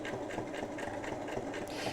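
A twin-needle sewing machine stitches medium-weight apron fabric, a quiet steady motor hum with fast regular needle ticks, close but faint.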